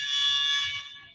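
A harsh, steady electronic alarm from a CrossFit home workout timer blares loudly for almost a second, then tapers off.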